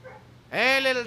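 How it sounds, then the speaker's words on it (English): A dog in the video game Assassin's Creed 3 gives one short, high whimpering yip that rises, then holds and fades. It is close and clear, with faint background sound before it. "Hey, little doggy!"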